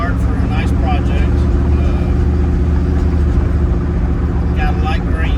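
A 1954 Chevy truck out on a drive, its engine a loud, steady low rumble heard from inside the cab throughout, with talk over the top.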